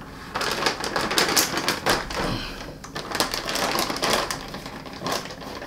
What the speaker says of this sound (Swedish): Så jag hackar ner dem med en kniv till små bitar.